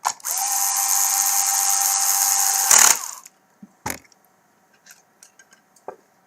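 Power drill driving screws while reassembling a TAO/LX7 drive motor, one steady whirring run of nearly three seconds ending in a louder bite, followed by a few sharp clicks and handling taps.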